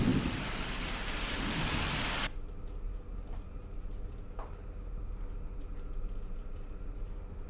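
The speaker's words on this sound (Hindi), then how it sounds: "झमाझम बारिश के साथ ओले गिरे हैं।" A heavy rain and hail storm with thunder roars loud and steady, then cuts abruptly to a quieter patter of rain with occasional faint rumbles. No voices are heard.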